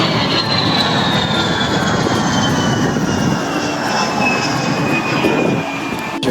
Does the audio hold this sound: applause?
no